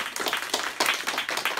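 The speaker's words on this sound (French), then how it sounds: "Applaudissements." Applause from the audience at a school performance in Sornac, Corrèze, after a song by the pupils, heard as rhythmic bursts of clapping that rise and fall in quick waves.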